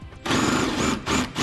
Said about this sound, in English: Now I'm going to be using a 14mm socket to remove the bolts.